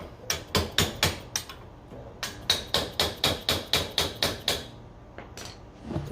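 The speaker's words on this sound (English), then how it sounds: "stick it in there, get it on an angle, and you're going to beat it out." Close, loud metal hammering as a bushing is driven out of a Honda Rubicon rear knuckle with a 1/4 inch extension: a fast burst of about five sharp blows, a short pause, then a steady run of about nine more, with a few lighter taps at the end.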